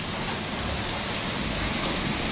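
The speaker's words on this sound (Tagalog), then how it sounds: "Nabot na tayo ng ulan" Steady rain falling outside a small restoration workshop, a continuous dense hiss with no voices, loud and unbroken throughout.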